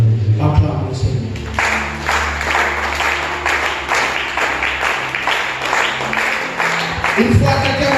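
Church congregation at a Sunday worship service clapping and cheering in acclaim of the Lord, a sustained dense wash of applause lasting throughout, mixed with voices and music.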